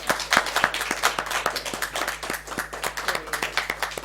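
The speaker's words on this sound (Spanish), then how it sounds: "Bueno, un aplauso." Lecture audience applauding, a fairly small crowd clapping in quick, distinct, uneven claps, near and moderately loud, with a faint low hum underneath.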